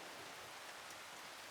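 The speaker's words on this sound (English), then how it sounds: "So much rain." Steady rain falls outdoors as a faint, even hiss with no other sounds.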